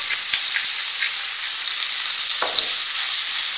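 Broad beans and chorizo frying in a pan, a loud, dense, continuous sizzle with a few brief crackles and a soft knock, close up and steady, no talking.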